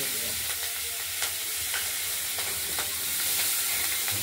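Chopped cabbage sizzles in hot mustard oil while a spoon stirs it, producing a dense, close frying hiss with repeated scraping clicks from the stirring.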